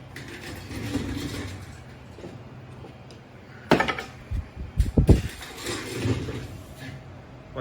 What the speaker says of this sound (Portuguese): Agora a gente vai voltar com as tampas laterais.